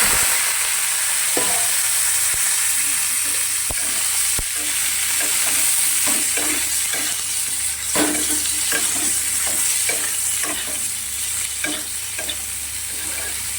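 Eggplant and onion fry steadily in hot oil in a wok, a continuous loud sizzle with repeated stirring scrapes and clacks and no talk throughout.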